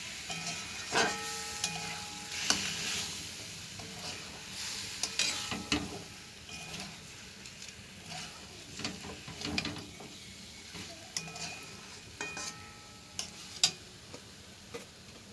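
Tomatoes, kohlrabi and spices being sautéed in a pan for kohlrabi curry; a soft frying sizzle under repeated clicking and scraping spatula strokes against the pan, irregular and close, with no speech.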